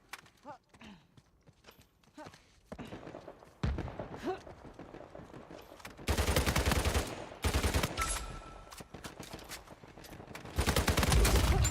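Bursts of gunfire in Uncharted 4: rapid loud volleys come in several separate blocks, the densest near the end, with scattered quieter shots and some game noise between them.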